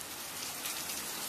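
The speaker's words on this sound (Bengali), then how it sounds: "আর বৃষ্টি হচ্ছে বাইরে প্রচুর পরিমাণে" Heavy rain pouring outside, a dense broadband hiss of downpour that stays steady and fairly distant, with no voices.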